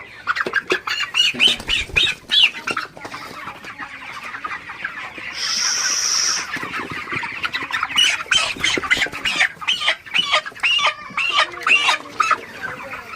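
Broiler chickens, 33 days old and about 2.5 kg, squawk loudly and repeatedly at close range while being handled for weighing, in harsh, rapid bursts with a brief steadier screech midway.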